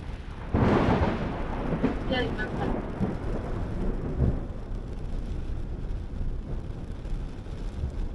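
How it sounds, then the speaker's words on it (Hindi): Heavy monsoon rain with a loud thunder crack early on, followed by steady broadband rain and wind noise on a waterlogged highway near Ahmedabad, with bursts of rumble fading into continuous downpour. "बगोड़ा में इतनी सारी बारिश होती है।"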